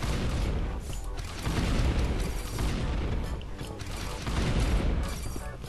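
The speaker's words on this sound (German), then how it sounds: "Oh, die explodieren." Robots blow up in the video game A.R.E.S., a dense wash of repeated booming blasts and mechanical clatter running continuously at moderate level, with no clear gaps between detonations.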